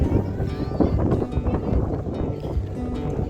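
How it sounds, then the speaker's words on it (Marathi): Strong wind gusting over Bhandara hill near Dehu, Pune, a loud low rumbling buffet against the microphone that drowns out other sound throughout. "खतरनाक वातावरण आहे, वारा खूप आहे, आवाज येत नसेल तुम्हाला"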